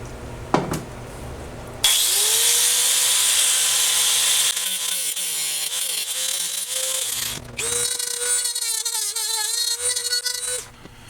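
A power tool grinds through a radiator bracket during a Honda GL1500 motorcycle radiator replacement, a loud, sustained high whine in two long passes with a short pause and pitch shifts between them.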